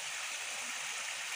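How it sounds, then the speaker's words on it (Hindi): Water pours into a pan of egg and potato curry in a steady, close, rushing stream for a brief moment. "पानी डाल दो इसमें"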